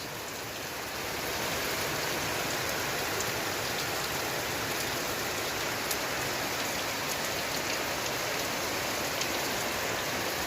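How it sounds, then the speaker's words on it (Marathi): First rain of the season falling in the Konkan countryside, a dense, steady hiss of rainfall on surfaces that swells in after the first second and holds evenly to the end. "कोकणात पावसाने हजेरी लावले बघा पहिलाच पाऊस"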